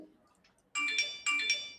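A phone rings in two bright, loud electronic bursts, each roughly half a second long, after a few quiet seconds of faint murmuring.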